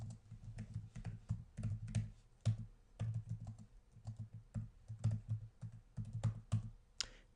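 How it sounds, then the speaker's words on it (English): Router configuration commands being typed on a computer keyboard, with close, crisp keystrokes in quick rhythmic bursts separated by brief pauses and no talking. "I like to type it out, especially as I'm learning new things in a lab."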